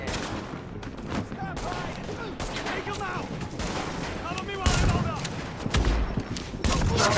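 Shotgun blasts and gunfire in the video game The Division, loud and repeated over dense game noise, with bursts of firing and someone talking over the action.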